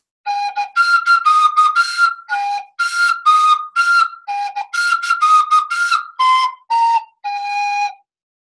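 A wooden wind instrument plays the pentatonic tune Shortening Bread as a lively run of short, clear, whistly notes in quick phrases, close and loud, with brief gaps between the phrases.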